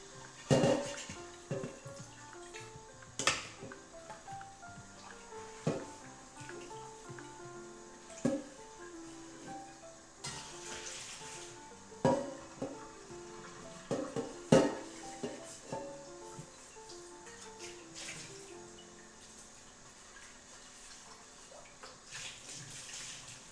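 Water runs from a tap as a cooking pot is lightly rinsed during brunch prep, with clinks of dishes and cookware and sharp knocks scattered over a steady background flow.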